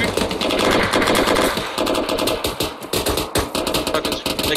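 Automatic and rifle gunfire in the military video game Arma 3, with rapid bursts and loud close shots crackling over an engine-like hum and battle noise throughout.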